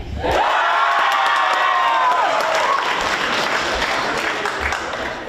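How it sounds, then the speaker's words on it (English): A crowd at a Media Arts Center tenth-anniversary event breaks into loud, sustained applause with cheers and whoops, steady and close, tapering only slightly toward the end. "Now, I want everyone very loud for Verde."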